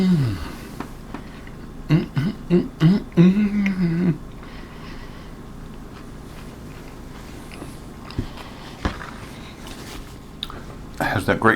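Biting and chewing a crunchy double-fried liverwurst sandwich with onion, horseradish and garlic, a few close crunchy bites and squishy chewing mixed with brief talking and murmurs.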